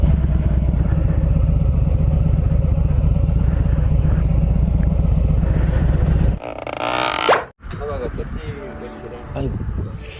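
A motorcycle engine idles with a steady low throbbing pulse for several seconds, loud and close, then cuts off as clattering and shifting noises take over, with a brief dropout and quieter rumble afterward.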